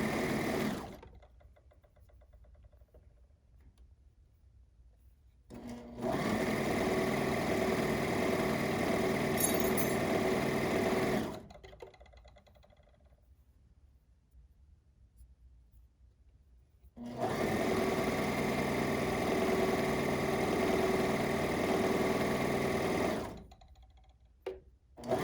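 Sewing machine stitching a fitted face mask in two long steady runs of fast, even whirring, separated by quiet pauses, with no speech.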